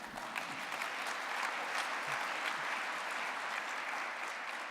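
Applause from an audience during a speech at an MIT event, a steady wash of many hands clapping at moderate distance throughout, with no talk over it.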